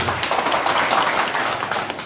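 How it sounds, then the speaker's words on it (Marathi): A crowd applauds at a village meeting celebrating the election of a cooperative society chairman and vice-chairman, brisk scattered clapping sustained throughout at moderate loudness, no speech. "आपण सर्वांनी या दोघांचं प्रथमतः टाळ्या वाजवून अभिनंदन करू"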